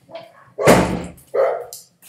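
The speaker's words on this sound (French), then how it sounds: "Mon chien qui aboie, c'est très agréable." A dog barks loudly and close by indoors, giving two or three forceful barks with short gaps between them and little else around.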